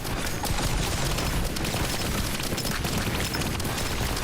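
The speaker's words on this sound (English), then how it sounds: "launching some mortars, firing some missiles, if you will." In the video game Risk of Rain Returns, mortars and missiles explode in a dense, continuous barrage of booms and blasts, loud and unbroken from start to finish.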